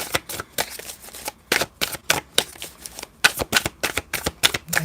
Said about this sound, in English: I'm going to do two more shuffles.